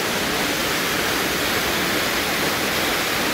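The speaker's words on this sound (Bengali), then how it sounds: "আর এই হচ্ছে উস্কি ওয়াটারফল।" Uski waterfall in the forest of Simlipal National Park, a steady, dense roar of falling water that stays loud and unbroken throughout with no voices.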